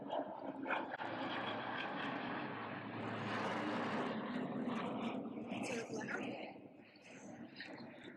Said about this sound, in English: There's another plane right over top.